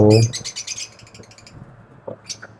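Several lovebirds in an aviary chirp in bright, rapid bursts, loudest at the start and fading into scattered calls against a low, steady background hum.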